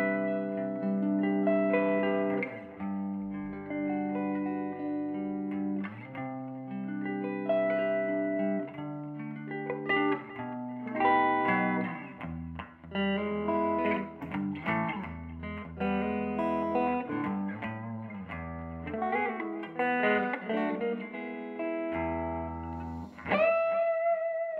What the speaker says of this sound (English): I'm going to start off on the neck P90 with everything on 10, and the clean tone sounds like this.